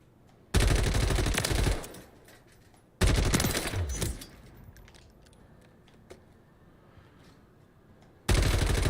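Automatic fire from a new weapon with heavy recoil in the MW3 Zombies video game; three loud, rapid bursts separated by quiet pauses, the last starting near the end.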